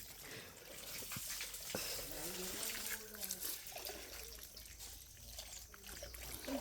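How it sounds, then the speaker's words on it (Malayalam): A faint, steady trickle of water running from a tap under a quiet voice, with soft background noise throughout. "വെള്ളം ഇങ്ങനെ ചുമ്മാ കളയല്ലേ?"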